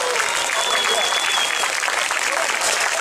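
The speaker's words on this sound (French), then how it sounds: "je demande de leur faire un tonnerre d'applaudissements" Applause from an outdoor crowd at a medieval festival in Tourrettes-Levens, honouring the volunteer firefighters: dense, steady clapping at close range throughout, with voices mixed in.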